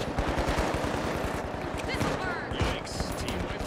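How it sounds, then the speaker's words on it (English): Rapid, continuous gunfire in the video game The Finals strikes the player, a fast rattling stream of shots that runs the whole time under brief speech. "I'm getting shot to shit."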